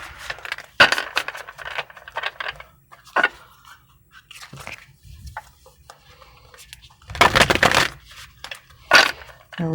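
Tarot cards shuffled by hand for a reading, giving irregular papery riffles and crunchy bursts at varying loudness, with quiet gaps between strokes and one longer, louder flurry near the end.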